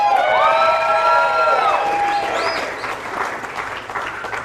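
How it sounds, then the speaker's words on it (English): A studio audience claps and cheers for Biggie Shay, co-host of KMOD's Big Mad Morning Show, in a loud, sustained burst. A whistle-like whoop rises over the steady clapping, which eases slightly toward the end. "Please give her a round of applause"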